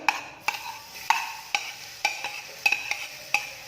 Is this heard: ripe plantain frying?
yes